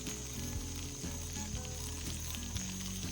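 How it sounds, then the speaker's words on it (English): Potatoes fry slowly on a homemade grill for breakfast, giving a steady close crackle and sizzle with tiny pops throughout and no voices. "I love that crackling sound of a frying potato."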